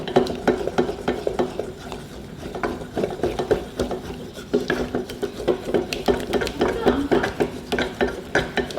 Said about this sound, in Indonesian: Di sini kita aduk-aduk sampai kental, mulai mengental, aduk lebih cepat.